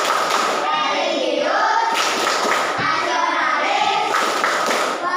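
A class of children loudly chants the Indonesian 'tepuk PPK' clapping chant in unison, with rhythmic hand claps mixed into the steady chorus of voices from start to finish.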